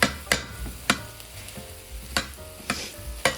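Spatula stirring browning food in a Lodge cast iron pan, sharp scraping strikes at irregular intervals over a constant soft sizzle, close and clear with no talk.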